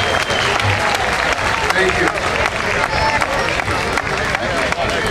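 A jazz concert crowd applauds and cheers for a performer, loud and sustained clapping with crowd babble mixed in throughout.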